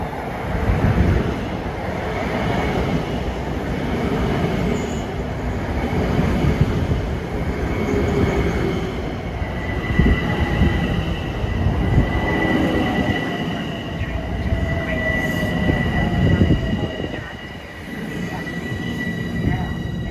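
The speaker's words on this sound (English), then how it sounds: "here comes a Great Neck bound train at 5:23" A Long Island Rail Road commuter train bound for Great Neck rolls into Woodside station at evening rush, its steady rumble and clatter of wheels filling the air, with a high metallic squeal of brakes drawn out over the arrival.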